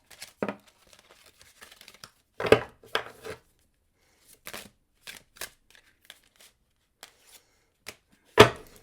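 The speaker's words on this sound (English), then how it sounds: "More shuffles." A deck of tarot cards is shuffled by hand in scattered bursts of crisp riffling, slapping and sliding, with short quiet gaps between, close up and with no talking.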